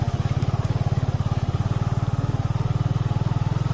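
A motorcycle riding a rough off-road trail, its engine pulsing in a steady, rapid low throb, close and continuous throughout.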